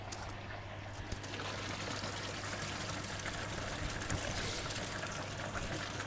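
Water pours steadily into a garden koi pond filter while the pump runs, giving a continuous rushing splash over a low, constant motor hum that holds at an even level throughout.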